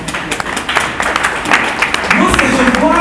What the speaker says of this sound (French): tu mérites nos acclamations, nos encouragements